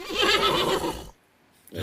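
A horse neigh used as a sound-effect drop, one loud whinny lasting about a second, then a sudden cut to silence before other audio comes back.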